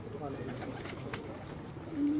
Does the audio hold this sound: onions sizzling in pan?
no